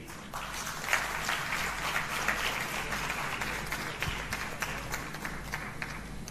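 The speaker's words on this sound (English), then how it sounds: "Can we have a big round of applause for BOPT?" An audience at a Regional Apprenticeship Day 2023 ceremony applauds, with steady, dense clapping that holds at an even level through the whole stretch and no voices over it.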